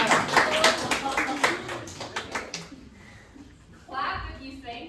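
Audience of a student drama society show clapping to vote for a t-shirt, a burst of loose, uneven hand claps that thins out and fades, followed by a brief voice.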